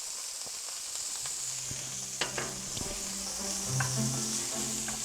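Fiddleheads sizzle gently in butter in a pan, a soft steady frying hiss nearby, punctuated by a few clicks and scrapes of stirring and a low faint hum underneath, with no one speaking.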